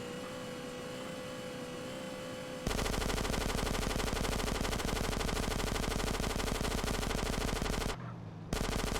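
An MP5 submachine gun fires in GTA San Andreas as a loud, rapid continuous burst lasting several seconds over steady engine-like game noise, with a brief break near the end.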